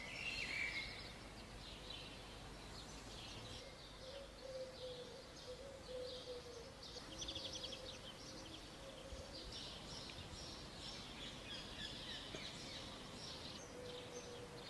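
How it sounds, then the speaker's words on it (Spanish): Several birds chirp and tweet continuously over a steady background hiss, calls overlapping at moderate distance with no one talking. "Empezamos a escuchar pájaros."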